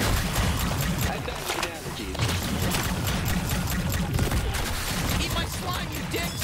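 Gunfire in the video game High On Life, a continuous rattle of rapid shots over a busy, loud mix, with a voice speaking throughout.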